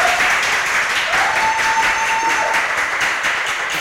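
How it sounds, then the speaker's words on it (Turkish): A studio audience at a Turkish folk-music television show gives steady, full applause as a singer comes on stage, continuous and fairly loud from start to finish with a faint voice underneath. "Alkış!"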